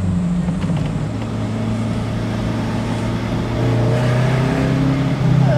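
Alfa Romeo GTV with an early 1600 engine revving, a steady loud engine drone close by that climbs in pitch toward the end, with no talk over it.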